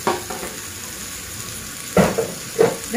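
Chopped apples for a creamy butternut soup sizzle in a pan, a steady soft frying hiss broken by a few clearer stirring scrapes and clinks toward the end.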